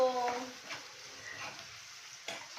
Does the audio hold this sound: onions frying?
yes